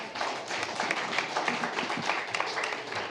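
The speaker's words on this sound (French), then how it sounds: "je pense qu'on peut l'applaudir." An audience applauds steadily at the inauguration of the APIcité label, a dense sustained burst of many hands clapping to honour the smallest labelled commune, home to 200 residents.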